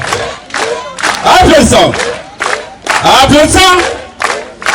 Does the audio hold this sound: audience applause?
yes